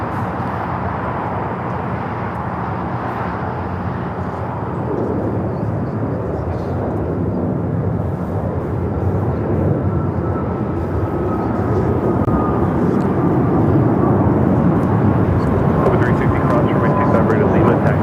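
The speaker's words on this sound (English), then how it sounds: "American A321neo taking off to Washington Reagan National, American Airlines 1233." An American Airlines Airbus A321neo jet takes off at Los Angeles International Airport, a loud, steady engine roar that fills the clip and swells slightly toward the end, with faint radio chatter underneath.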